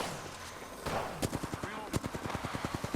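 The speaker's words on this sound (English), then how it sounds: "They're shooting at me." Rapid automatic gunfire in the mech combat game Gundam Battle Operation 2, with a long string of sharp, evenly spaced shots cracking close and loud after a brief quieter lead-in.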